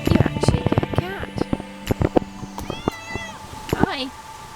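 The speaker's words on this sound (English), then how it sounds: "You actually get a cat." A cat at a campsite in Portugal meows several times up close, its rising and falling cries standing out over nearby talk and a few sharp knocks.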